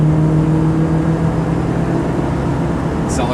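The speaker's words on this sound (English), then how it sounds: "Engine runs great." 1970 Ford Torino GT with a stock 302 V8, two-barrel carb and single exhaust, giving a steady, close, low engine drone that holds an even pitch throughout, with a faint brief chirp near the end.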